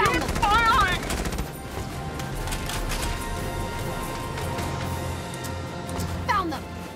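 Gunfire in Valkyria Chronicles 4 during a battle on ice: a dense, continuous stream of shots and bursts under game music, with voiced combat lines over the top and a louder burst near the end.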